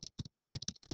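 Quick bursts of typing on a computer keyboard, close and crisp, with small clusters of key clicks separated by a short pause and no talking.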